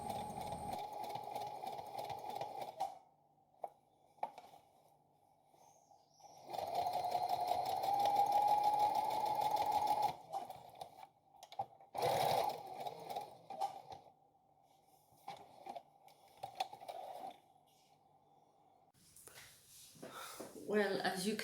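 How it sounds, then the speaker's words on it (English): A sewing machine runs in short bursts while stitching an elastic waistband onto a circle skirt, its hum starting and stopping repeatedly with quiet pauses between runs and a voice talking in places. "Sew in short bursts, slow and steadily until you get to the end."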